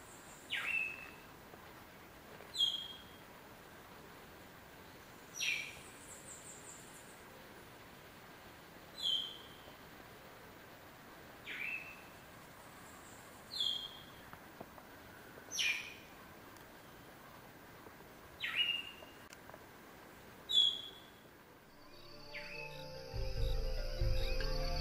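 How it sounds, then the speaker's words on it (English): Short, bright bird calls repeat every few seconds over a steady background hiss of tropical rainforest ambience in El Yunque National Forest, Puerto Rico, with a louder rustle at the very end. "Listening for the bird calls."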